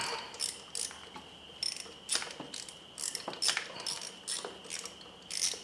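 A hand ratchet loosens the 8mm bolt on the dipstick bracket of a 2000 Ford Focus engine, a series of quick, faint clicking strokes coming in a steady rhythm, each stroke a short burst of clicks, with no one talking.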